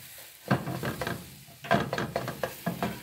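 Augason Farms powdered eggs cooking in a pan, with a low sizzle beneath repeated scraping and stirring strokes that come in irregular bursts, close and fairly loud.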